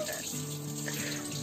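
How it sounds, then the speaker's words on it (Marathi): Tap water runs steadily into a sink while someone washes their hands before making paan laddoos, a continuous close splashing stream with no pause. "हँड वॉश कसे करायचे हा सोप सोल्युशन घ्यायचा आणि पाणी चालू ठेवायचं"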